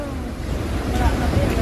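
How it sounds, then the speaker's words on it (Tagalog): Typhoon storm-surge waves roar against a house in a dense, rumbling wash of surf with wind noise buffeting the microphone, loud and close throughout. "Ito na po yung alon sa bahay namin."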